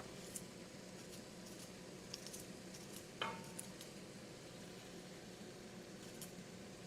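Fresh garlic stirred in a pan for a Jamaican breakfast: a low, steady sizzle with occasional light clinks and scrapes of a utensil against the pan, quiet and close.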